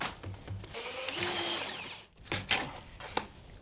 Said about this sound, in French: Effectue le trou de perçage